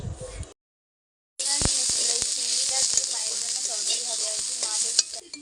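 Prawn curry sizzles in a pan, a steady hiss of frying broken by scraping and clinking as it is stirred. A short burst of sound and a second of silence come before the sizzling.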